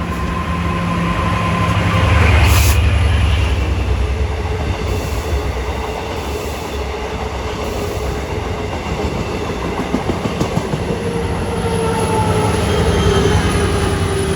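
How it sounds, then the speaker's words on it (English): An M9 commuter train on the Long Island Rail Road, bound from New York to Oyster Bay, passes Kew Gardens station with loud, close rumble, wheel squeal and rhythmic clicking over rail joints, continuous throughout. "Here comes train 564 from New York to Oyster Bay."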